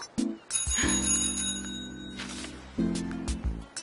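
An electric blue five-speed bicycle's tiger bell rings in loud, bright, metallic bursts, the first pair short and close, then a long sustained ring followed by another ring near the end.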